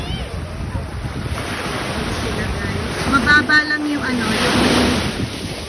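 Rough ocean surf rolls and washes at the sea in Bolinao, Pangasinan, a broad, continuous roar buffeted by wind noise, with faint voices in the background.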